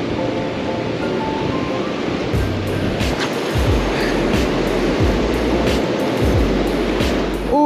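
Ocean waves break and wash continuously on a beach where people cast for Dungeness crabs, a loud steady surf roar with strong wind buffeting the microphone and nobody speaking.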